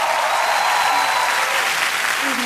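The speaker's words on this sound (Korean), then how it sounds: "박수. 박수." Loud, dense applause from a concert audience at a Christmas carol performance, close and sustained throughout without a break.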